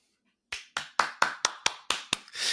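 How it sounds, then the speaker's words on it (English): Hands clap nine times in a quick, slightly uneven rhythm after a brief silence, crisp and close, with a louder burst trailing at the end. "Applause."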